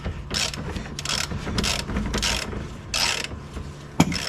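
A ratchet driver with a small extension cleans out bolt threads during rear lower control arm work, producing close rapid clicking bursts in repeated strokes, ending with one sharp knock.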